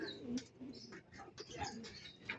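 Soft pigeon coos, Red Checkered breed, in a Philippine loft setting, repeating in low murmuring bursts amid light background noise, fairly close and moderately quiet.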